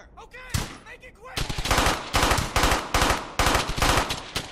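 Machine gun fire from Brothers in Arms: Hell's Highway rattles in loud, rapid bursts separated by short pauses, following a brief voice and a single sharp shot at the start.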